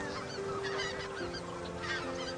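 Several geese honk repeatedly in a noisy chorus at the Cosumnes River Preserve, loud and close, with overlapping calls throughout.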